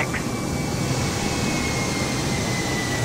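Simulated Airbus A320neo engines during a United Airlines takeoff in Microsoft Flight Simulator give a steady, dense, loud roar that holds unchanged throughout, with a faint high whine running beneath it.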